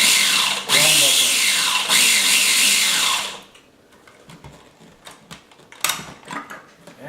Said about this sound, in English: What I'm going to do is I'm going to pulse it, and then once I use the chop